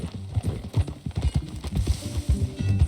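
Horse hooves clip-clop at a steady, rhythmic pace in the video game Red Dead Redemption 2, with close, even thuds continuing throughout and no talk over them.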